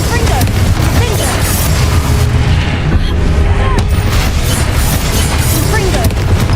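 Repeated explosive blasts from the Confringo fire curse in the Hogwarts Legacy video game, loud booms over a dense continuous rumble, with a voice speaking throughout.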